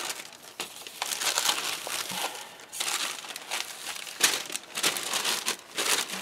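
Tissue paper full of envelopes being handled and crinkled up close, a continuous rustling and crumpling with louder crackly bursts and brief pauses, no voices.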